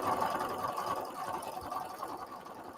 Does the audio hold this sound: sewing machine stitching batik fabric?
yes